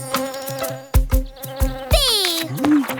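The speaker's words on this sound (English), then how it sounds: "It's a honeybee." A cartoon honeybee buzzes loudly and close by in a children's animated nature show, its drone rising and wavering in pitch over a bouncy musical backing, with no voices speaking.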